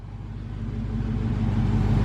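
A Dodge Hellcat idles steadily up close, a deep low rumble with a lumpy pulse that holds constant and grows slightly louder over about two seconds, with no talking.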